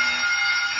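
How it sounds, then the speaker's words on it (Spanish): A fire alarm sounds during a school fire drill in a cartoon, a loud, continuous electronic buzzing ring that holds steady, with no talking. "¡Es la alarma de incendio!"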